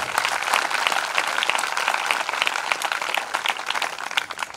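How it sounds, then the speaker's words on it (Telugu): A congregation at a church prayer meeting breaks into loud, sustained applause, a dense wash of many hands clapping together throughout, heard alone without speech. "అందరూ ఒకసారి గట్టిగా చప్పట్లు కొట్టండి"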